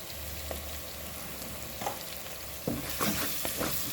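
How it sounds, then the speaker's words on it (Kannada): Greens sizzle softly in an oily pan while turmeric and pepper powder are stirred in, with intermittent scraping and stirring knocks over a low, steady frying hiss. "ಚೆನ್ನಾಗಿ ಮಿಕ್ಸ್ ಮಾಡುವ."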